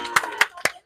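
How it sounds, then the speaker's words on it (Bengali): A crowd claps in a village game where balls are rolled down a tin roof for prizes, giving four sharp, evenly spaced bursts of applause with brief quiet gaps between them. "সবাই জোরে হাততালি দাও"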